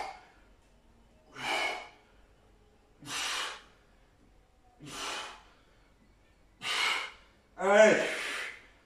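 Heavy breathing during a home full-body HIIT workout with no equipment: five or six strong, evenly spaced breathy exhales, close and loud, the last one rougher and voiced, with silence between.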